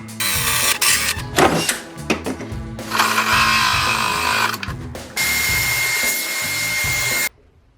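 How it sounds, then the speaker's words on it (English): A 3-inch hole saw cuts a hole with a loud, close drill whine and grinding bite. The drill starts in bursts, then settles into sustained cutting and stops abruptly. No one speaks. "for our 3-inch cup, we're going to use our 3-inch hole saw"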